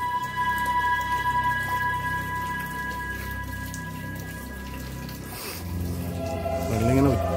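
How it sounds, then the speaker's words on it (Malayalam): Water dripping steadily outside a cave entrance by a perennial spring, a close patter of drops running throughout, with a brief burst of voices near the end. "വെള്ളം ഇങ്ങനെ ഒറ്റിക്കൊണ്ടിട്ടുണ്ട് പുറത്ത്."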